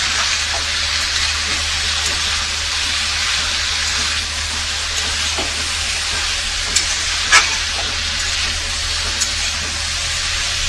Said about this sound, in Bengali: সবজির সাথে ভালো করে লবণ আর হলুদটাকে মিশিয়ে নিচ্ছি।